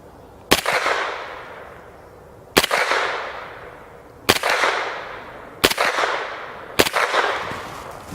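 Five suppressed 9mm pistol shots fired with standard-velocity 115 grain ball ammunition, each a sharp loud crack with a decaying tail, spaced unevenly about one to two seconds apart, with no talk between them.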